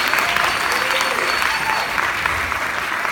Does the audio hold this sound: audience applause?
yes